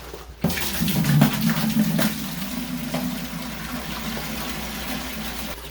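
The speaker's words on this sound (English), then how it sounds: "let me go ahead and get my water started" Water running into a seven-gallon heater container that is partly frozen through, a sudden gush that settles into a steady, close splashing pour, with no talk over it.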